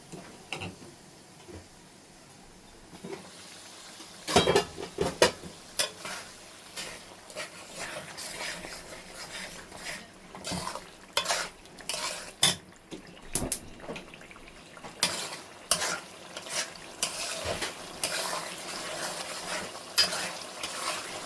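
Spice masala for mustard hilsa fish is stirred and sautéed in a pan, the spoon scraping and clattering in irregular bursts over a steady sizzle, quiet at first then busier and close up.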